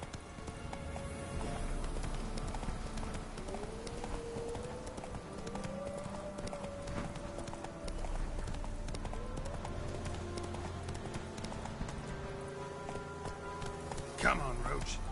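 Roach, Geralt's horse in The Witcher 3, galloping with soft, rapid hoofbeats running low beneath game music and ambience, faint and steady, ending with a brief louder accent.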